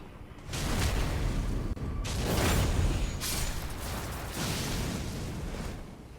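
Explosions in an Elden Ring boss fight against Morgott or Mogh, a series of broad rumbling blasts following one another with brief dips between, loud and full, with no talking.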